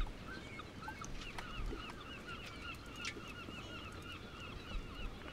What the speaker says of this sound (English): there's the birds